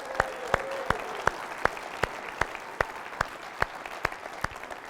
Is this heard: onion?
no